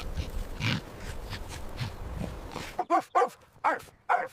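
A dog barks in a rapid run of sharp, close barks, first under a muffled noisy background and then standing out alone in clean, separated bursts.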